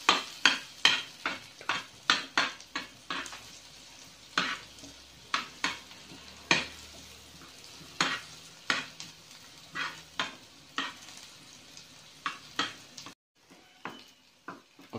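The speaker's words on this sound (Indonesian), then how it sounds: "ini kalian tumis dulu sampai harum." Garlic sautéed in a pan gives a steady faint sizzle, punctuated by regular sharp clicks and scrapes of a utensil stirring against the pan, close and without talk.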